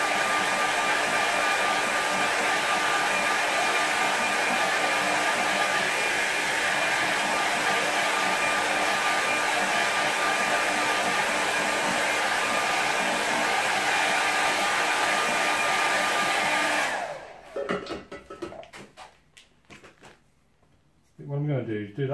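A hair dryer blows steadily on a painting of a simple coastal scene to dry the paint, a loud, constant roar with a faint whine, then it cuts off and leaves quiet handling sounds.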